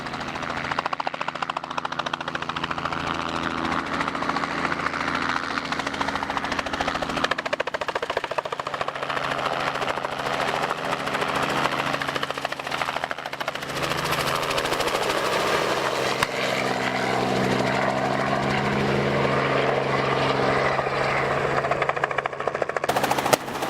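Continuous rotor thump and engine drone of a helicopter used for netting game animals, steady and fairly loud throughout, with no voices.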